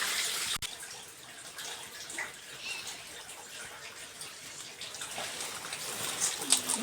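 A vehicle splashes through shallow water on a rough Moroccan dirt track, with steady broadband rushing and sloshing throughout and a brief sharp knock early on.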